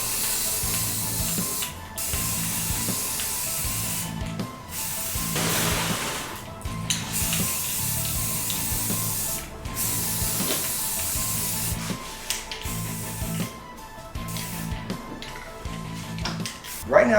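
Primer spray-painted onto a 3D-printed cosplay mask: repeated bursts of aerosol hiss, each a few seconds long with short gaps, close and steady, with faint handling between sprays.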